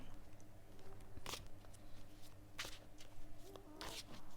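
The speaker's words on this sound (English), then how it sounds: "I'm shuffling first, just to clear the deck." Soft riffling bursts of cards being shuffled, three distinct flurries spaced a second or so apart over a quiet background hum.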